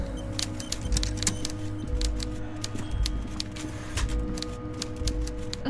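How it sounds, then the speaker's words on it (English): Rapid clacking of typewriter keys from the video game Disco Elysium, an irregular stream of sharp ticks and strikes running steadily over a low ambient hum and background music. "Ugh, the typewriter noises."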